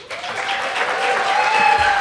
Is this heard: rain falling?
no